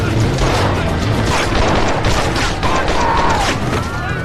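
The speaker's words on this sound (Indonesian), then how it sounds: "Adul dan Jojo melawan membuat baku tembak tak terhindarkan." Gunfire in a film shootout during a raid on a factory, a dense continuous barrage of shots and crashes, loud and close, with a voice faintly under it.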